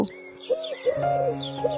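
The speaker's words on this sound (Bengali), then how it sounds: "ঘুঘু পাখি উড়ে আকাশে" A dove coos softly in a few short rounded calls over gentle, steady musical tones in a Bengali children's alphabet rhyme.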